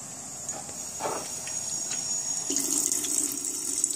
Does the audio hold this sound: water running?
yes